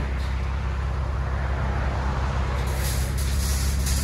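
A 2012 Chevy Camaro V6 with Flowmaster 40 Series dual exhaust reverses, its low steady exhaust rumble droning close by with faint higher noise toward the end.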